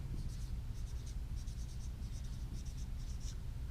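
A pen or pencil writes a word expression for a fraction problem, producing soft, irregular scratching strokes in short bursts over a steady low background hum, with no talk.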